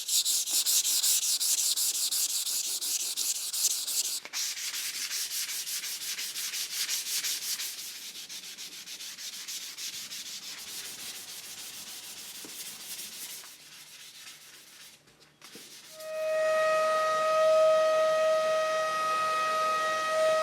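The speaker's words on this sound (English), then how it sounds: "So you keep sanding until they disappear, then you know you're completely flat." Steady rhythmic rubbing of sandpaper on guide coat over painted Harley-Davidson Heritage Softail parts, close and continuous, then a high steady whine takes over near the end.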